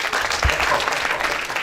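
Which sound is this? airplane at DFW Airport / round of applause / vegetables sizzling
round of applause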